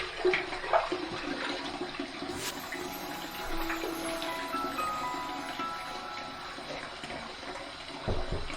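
Running water splashes steadily from a tap as a head is wetted before a shave, a continuous close wash of sound with a brief louder burst near the end.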